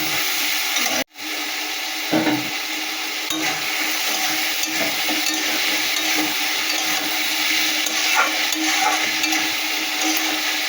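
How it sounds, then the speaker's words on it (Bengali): Spice masala with beans and cauliflower is stirred and fried in a pan. A loud, steady sizzle runs throughout with light scraping from the spoon and one brief dropout near the start. "ভালো করে মশলা সবজি ভালো করে কষিয়ে নিচ্ছি, আর একটু কষাবো।"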